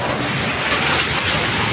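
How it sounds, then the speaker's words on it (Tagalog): Steady heavy rain pours over a flooded street near the Pedro Gil LRT station and Robinson's Place in Manila, a dense continuous wash of noise close by with faint low rumbles, no voices. "Saka tuloy-tuloy pa yung ulan."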